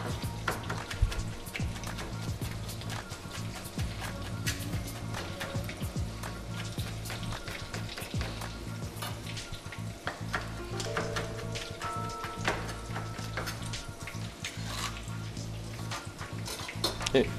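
Carp (šaran) frying in hot oil, with a steady crackling sizzle and spattering throughout, plus occasional light clinks of a pan or utensil.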